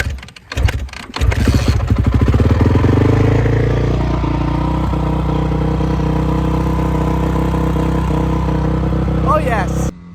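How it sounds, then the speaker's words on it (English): A motorcycle engine cranks with a clattering start, then catches and settles into a steady, loud, close idle that runs on alone, with a brief higher sound near the end. "let me see if I can get my bike started back up."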